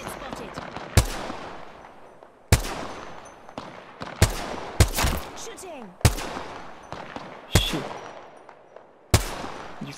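Sniper rifle shots in Apex Legends ring out as sharp, loud cracks roughly every one to two seconds, each trailing into a fading echo, with some quieter game noise between them.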